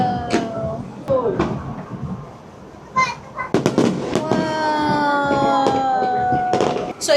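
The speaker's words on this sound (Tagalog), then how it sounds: "bigla nagpa-fireworks dito nga sa may lanterns show" Fireworks going off at a lanterns show, sharp crackling bursts and pops spread through the scene, with people talking and exclaiming over the blasts nearby.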